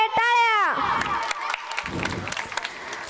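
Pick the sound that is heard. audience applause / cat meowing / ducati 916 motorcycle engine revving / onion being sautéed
audience applause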